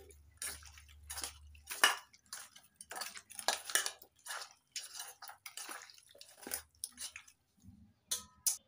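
Chicken being mixed by hand with tomato sauce and soy sauce in a bowl, giving repeated wet squelching and clinking against the dish in short, irregular bursts, close and without talk.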